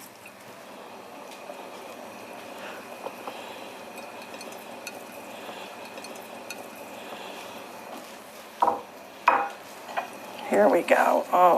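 Italian ragu sauce simmering in a pot, soft steady bubbling and quiet pops under brief speech, then louder clinks and scraping of a utensil against the pot toward the end.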